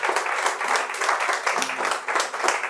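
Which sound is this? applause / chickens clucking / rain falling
applause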